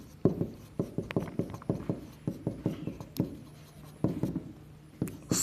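Marker or chalk writing on a board during a chemistry lecture, a steady series of short, sharp scratchy strokes in quick bursts with brief pauses, close and clear, with no talking.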